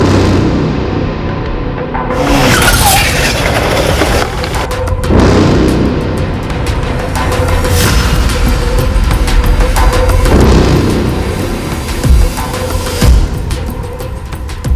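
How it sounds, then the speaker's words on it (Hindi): A motorbike is hit by a vehicle as a loud, dramatic sound effect on a dark, deserted road at night: a sustained roaring rush with repeated heavy crashing impacts and booms over nearly fifteen seconds. "कोई उसकी बाइक को ठोकर मार के भाग जाता है?"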